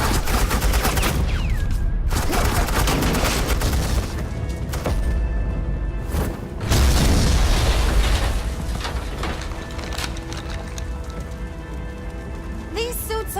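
Gunfire laying down suppressing fire in a Batman video game, dense bursts of rapid shots and booms with loud impacts, interrupted by voices talking over the shooting.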